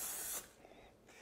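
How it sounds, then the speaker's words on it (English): Non-stick vegetable cooking spray hisses into ramekins in two short bursts, the first lasting a moment and the second starting just as the sound ends, close by with no talk. "you want to spray each ramekin with non-stick vegetable"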